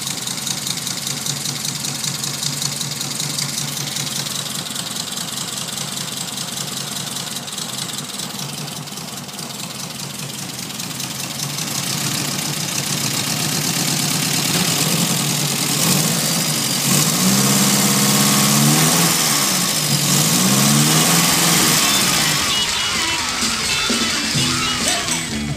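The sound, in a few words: Triumph TR4 car engine idling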